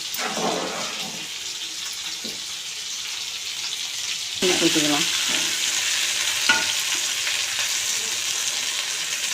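Fish going into a hot pan for a traditional fish curry, with continuous sizzling and frying, a brief splash and stirring, and a louder burst of spitting oil midway; no talking.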